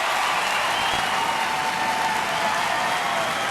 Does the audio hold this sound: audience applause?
yes